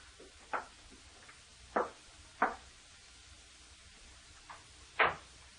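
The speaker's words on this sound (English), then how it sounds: "opened the door" A few sharp knocks and clunks of a door being unlocked with a key and opened, scattered across a quiet room with pauses between them, the loudest thud near the end.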